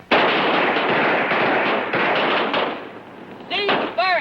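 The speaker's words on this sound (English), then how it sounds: "Ready on the firing line. Commence. Firing." Rifles firing on a shooting range in a 1953 film, a rapid barrage of loud, overlapping cracks that runs without a break for several seconds, then thins out as a voice begins shouting over the last shots.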